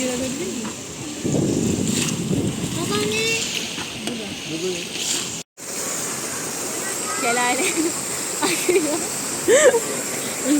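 Water flows steadily in Gülhane Park in Istanbul, the former rose garden of Topkapı Palace, a constant splashing rush with birds chirping and a voice faintly heard over it.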